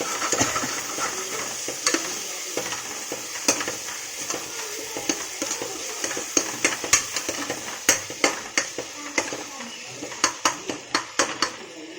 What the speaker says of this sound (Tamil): இது ஒரு 2 நிமிஷம் நல்லா மிக்ஸ் பண்ணி விடணும்